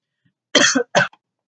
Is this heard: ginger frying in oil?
no